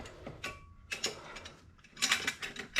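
Hand tool being wound in and tightened on a Classic Mini during engine bay preparation, giving close, irregular ratcheting clicks and metallic mechanical rattles in short bursts.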